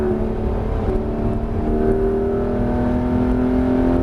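A Porsche 991 GT3 RS engine drones loudly and steadily at high revs on a race circuit, in fifth gear behind a Ferrari, its pitch creeping slightly upward, close and without pause.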